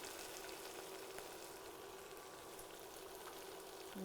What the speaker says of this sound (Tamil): இப்போ அடுத்தது பச்சை மிளகாய் போடுறேன்